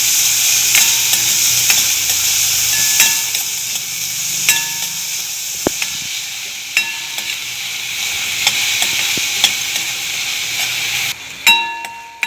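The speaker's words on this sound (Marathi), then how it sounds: "कांदा गुलाबी होईपर्यंत आपण परतून घेऊ।" Onion sautés in a pan with a bright, steady sizzle and hiss, punctuated by sharp spatula clicks and clanks against the pan, loud and close, with no voices.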